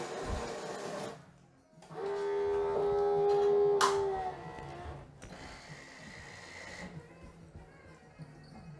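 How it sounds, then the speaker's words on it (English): A Terra Kaffe espresso machine grinds coffee beans with a steady, whining motor hum lasting a couple of seconds, set among quieter clicks and mechanical noises from the machine. "It's grinding the beans."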